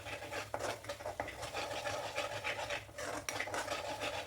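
Chilli powder is stirred into instant mango pickle in a pan, giving a soft, continuous scraping and rubbing of a spoon against metal with small clinks, faint and close.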